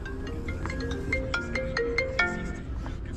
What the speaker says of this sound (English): Somebody's calling my phone.